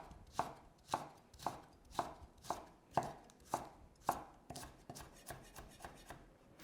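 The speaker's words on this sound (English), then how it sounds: "Finely slice your onion." A knife finely slices onion on a chopping board for slaw, about a dozen crisp, evenly spaced strikes roughly every half second, close and clear, speeding up slightly toward the end with no talking.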